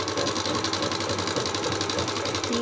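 Sewing machine stitching a suit's shoulder seam runs continuously at a fast, even rhythm, a close mechanical whirring chatter with no voices.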